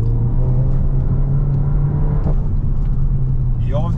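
A SEAT Leon Cupra driving fast on the road, with a steady loud engine drone and tyre rumble running the whole time and a brief rising whir near the end.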